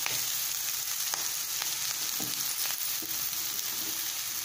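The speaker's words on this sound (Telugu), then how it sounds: "మనకి ఇప్పుడు క్యాప్సికమ్ కూడా ఫ్రై అయిపోయింది కదా" Capsicum fries in a pan for veg noodles, a steady close sizzle with a few faint stirring clicks and scrapes throughout.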